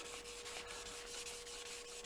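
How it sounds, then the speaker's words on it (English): Wet sanding a lacquer finish with 1200 grit sandpaper and water: a soft, continuous rubbing hiss with faint rhythmic strokes, quiet and close, with no voices. "Bit of water on there just to lubricate the sandpaper, and then it's a case of just working your way round."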